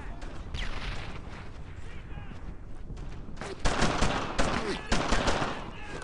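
Gunfire in the World War II shooter Brothers in Arms: Earned in Blood: steady bursts of rifle and machine-gun fire crackle throughout, swelling into louder, denser volleys in the second half.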